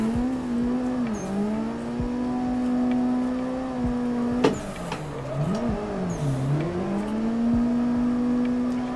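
Simulated car engine from Assetto Corsa holds a steady high drone, dipping and swooping in pitch as the car spins through a 360 drift, with a sharp knock midway; no talking.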